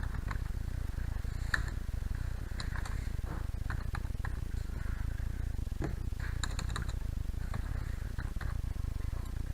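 Rapid clicking from a computer keyboard while text is typed in web design software, with irregular bursts of keystrokes over a steady low background hum.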